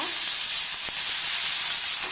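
A steady, loud sizzle of chopped banana stem frying in hot oil, continuous and close with no talking.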